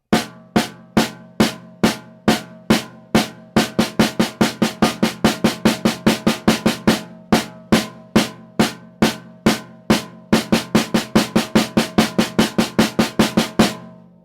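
Crisp drumstick strokes in traditional grip alternate between steady quarter-note hits and faster doubled eighth-note runs, played alone and evenly, close and dry.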